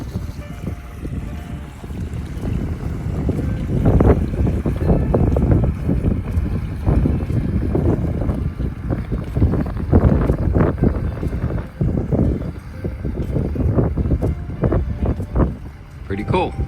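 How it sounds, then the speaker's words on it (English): A boat comes into the Fiesta Key harbor from the Gulf, a low engine rumble under heavy, gusting wind buffeting the microphone, loud and continuous throughout. "And just happened to catch a boat coming in"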